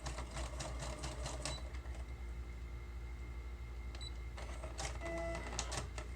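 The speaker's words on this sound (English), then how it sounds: "My sewing machine cuts for me" A sewing machine with a built-in cutter runs steadily with a rapid mechanical whir and rattle, speeding up and slowing in bursts, with a few faint electronic beeps.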